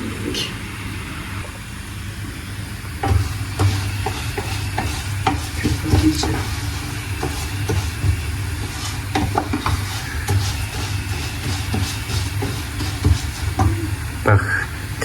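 Butter foaming and sizzling in a pan, a steady close crackle with scattered sharper pops and scraping stirs throughout, under a low hum.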